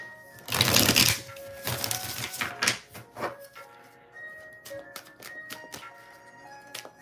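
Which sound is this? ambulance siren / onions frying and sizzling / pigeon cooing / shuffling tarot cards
shuffling tarot cards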